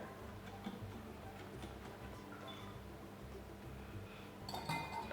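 Carrot cake batter with brown sugar and eggs is stirred in a bowl, faint soft clinks and light ticking of a utensil against the bowl over a quiet background, with a slightly louder clatter near the end.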